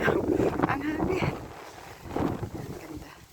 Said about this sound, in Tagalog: Ang hangin sa gabi.